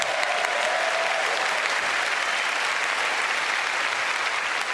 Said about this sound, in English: What I want you to do is put your hands together, pull them apart, and then bring them... You know what I'm saying. Clap.